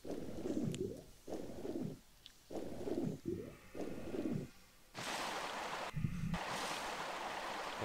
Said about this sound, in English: pull on the broomstick-shaped lever just down here to lower the water level